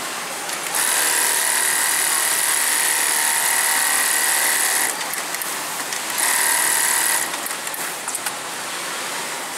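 A programmable industrial sewing machine stitches in loud, steady whirring runs with a high whine, pausing briefly mid-way before starting up again, with no one speaking.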